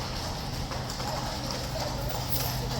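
A horse's hooves clip-clop among a dense, steady crowd murmur at Horse Guards in London. The hoofbeats are muffled and sit under the constant noise of the onlookers.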